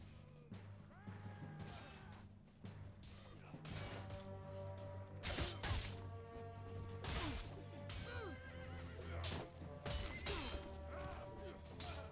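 A horse neighs and whinnies several times in Mount & Blade: Warband amid clattering, crashing battle noise and layered game sounds, with a continuous musical drone underneath.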